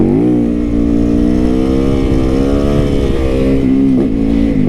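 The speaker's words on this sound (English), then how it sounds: "we're gonna bust some wheelies up here" A cruiser motorcycle engine revs hard and loud at close range, a steady deep rumble that rises in pitch near the end while being ridden for wheelies, with no talk.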